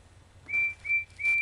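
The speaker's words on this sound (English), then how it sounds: "Then she heard Percy's whistle." Percy the engine's whistle sounds three times in a row, clear and fairly close, with short gaps between the blasts and no talking.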